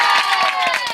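Brief burst of crowd noise at a busy cattle market before Eid, voices cheering and shouting together with scattered claps, close and lively for about a second.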